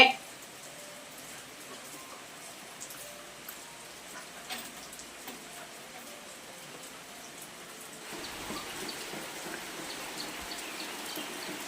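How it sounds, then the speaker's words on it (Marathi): Steady light rain patter with a soft hiss, growing a bit heavier toward the end. "संध्याकाळची वेळ आहे आणि पावसाला सुरुवात झालेली आहे"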